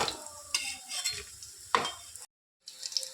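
Chicken keema kebabs fry on a hot tawa, giving a steady sizzle with a few brief scraping and stirring bursts, then a short silent gap before the sizzling resumes more quietly.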